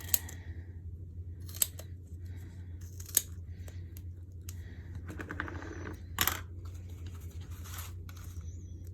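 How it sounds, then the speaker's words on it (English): Scissors snip strips of foam tape for a scrapbook layout, a few sharp close cuts spaced apart over a quiet background hum, no talking. "So I'm just gonna cut a couple of strips here."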